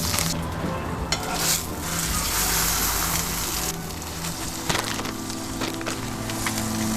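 A tortilla fries in consomé in a pan, giving a dense, steady sizzle with scattered crackles and pops, close and loud, with no voices.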